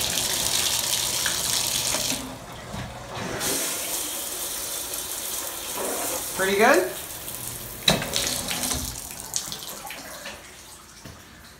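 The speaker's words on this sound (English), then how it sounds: "Bathtub, let's check the water pressure." Water from a bathtub tap in an apartment bathroom runs in a steady broadband rush, loud and close, with brief knocks and a short spoken comment partway through.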